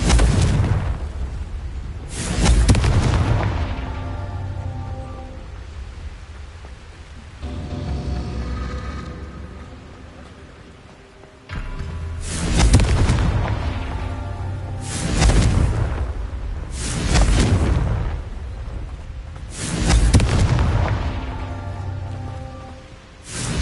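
Repeated fire-spell explosions from a Harry Potter video game come as a series of loud, booming blasts. They arrive in clusters with rumbling decays between them.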